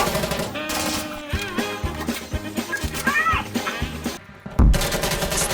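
A suppressed Galil rifle fires in Insurgency Sandstorm in rapid bassy bursts of thumping shots, loud and close, with short pauses and a heavier blast near the end; someone talks over the gunfire.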